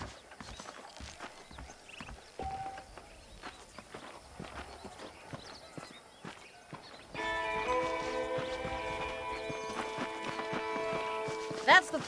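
Rhythmic clip-clop of horse hooves walking in the video game Red Dead Redemption, joined midway by a busier, brighter mix with a short snort or whinny near the end.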